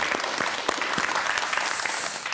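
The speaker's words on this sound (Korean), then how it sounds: "오늘 박수를 좀 주실까요?" An audience at a talk event applauds, a dense patter of many hands clapping at a steady level close by, with no voices over it.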